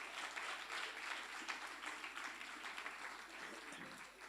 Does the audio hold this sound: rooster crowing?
no